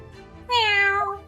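A cat meows once in The Great Ace Attorney video game, a single clear, close, drawn-out meow with a slightly falling pitch over quiet background.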